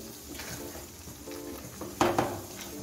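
Chicken koftas being sautéed in spice masala, a close sizzle with stirring and a couple of spoon clinks near the end, no talking.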